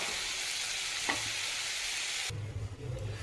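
Cauliflower and potato fry in a covered pan as a soft, steady hiss, with a single faint click partway through and a lower, rougher bubbling crackle near the end, quiet and close with no voices.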